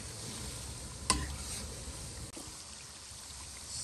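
Hong Kong style chili oil cooks over very low heat with a soft, steady sizzle while it is stirred, and a single utensil clink stands out near the start.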